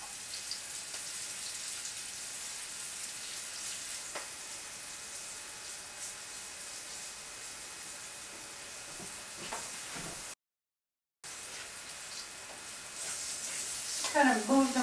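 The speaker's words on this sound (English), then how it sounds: "I'm just going to pan fry them in a little olive oil" Green beans pan-fry in a little olive oil with a soft, steady sizzle that stays faint throughout, with a few light clinks of stirring toward the end.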